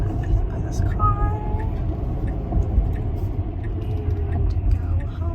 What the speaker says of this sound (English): going to hopefully not get hit by this car